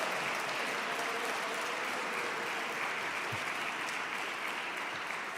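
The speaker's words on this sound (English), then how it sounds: "The King Marching Band, give them a round of applause." A crowd at a Nation of Islam Sunday gathering applauds the King Marching Band with steady, sustained clapping that stays even and fairly distant for several seconds, with no talking on top.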